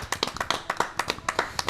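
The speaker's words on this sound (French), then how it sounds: "mesdames et messieurs, Thierry Tumerville, on peut l'applaudir" A small audience at a French auto and motorbike show claps in a brief, sparse patter of individual hands, close and fairly soft, with no voices over it.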